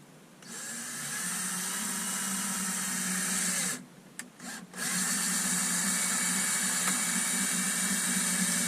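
A power drill whines steadily as it bores a pilot hole for an attic HDTV antenna mount, stops briefly with a couple of short stutters, then resumes at full speed, loud and close.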